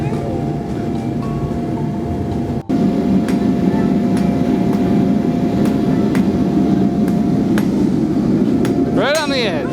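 A blacksmith hammers hot metal on an anvil while forging metal vines, with sharp ringing strikes in an uneven rhythm over a steady roar of forge noise.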